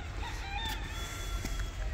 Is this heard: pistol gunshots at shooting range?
no